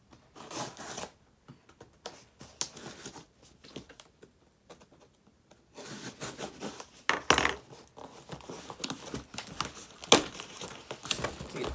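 Taped Christmas gift packaging is pulled open, giving close, irregular crinkling, tearing and rubbing sounds in scattered bursts that grow busier toward the end.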